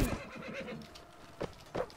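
Horse neighing in the Mount & Blade Warband video game: a sharp whinny at the start, then two short snorting bursts later on, with faint combat noise underneath.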